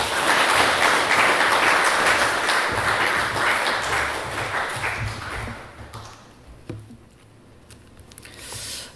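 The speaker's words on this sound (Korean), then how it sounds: "우리 박수로 하나님 앞에 영광 돌리며 환영하겠습니다" Congregational clapping during a Sunday morning church service, dense and loud at first, then fading and dying away to near silence in the last few seconds.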